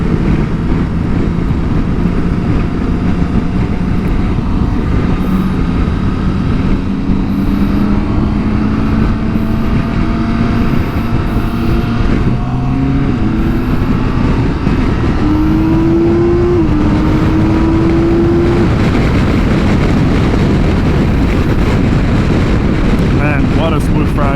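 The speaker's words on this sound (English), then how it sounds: "That inline 6 has definitely been dialed in by BMW. Wow, what a beautiful acceleration that had." A 2023 BMW K1600B with an inline six-cylinder engine accelerates on a highway, its smooth engine tone climbing steadily through the gears under loud, constant wind roar.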